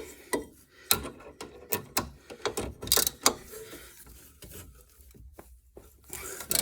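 Bolts on a Rover 75 rear brake are tightened with a ratchet, which makes close, sharp clicking in uneven bursts followed by softer metallic rubbing and knocks, with no talk.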